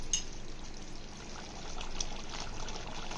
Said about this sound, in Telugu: తగినన్ని వాటర్ యాడ్ చేసుకుంటున్నాను